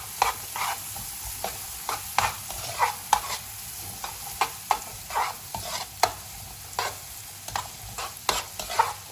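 Chopped onion fries in a pan as the base for jambalaya, giving a steady close sizzle broken by regular sharp scrapes and clacks of stirring, with no talk.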